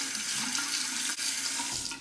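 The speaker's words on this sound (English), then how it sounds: "Cold water rinse." Cold water pours steadily from a tap into a sink for rinsing during a straight razor shave, a close, continuous hiss-like rush with no pause.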